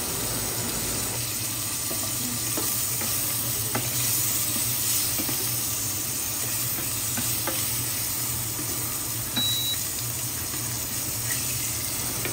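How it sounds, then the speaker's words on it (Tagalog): Sliced onions frying in a pan, a steady soft sizzle running throughout with occasional light stirring clicks and scrapes, close and continuous with no talking. "Ilalagay ko naman po ang hiniwang sibuyas."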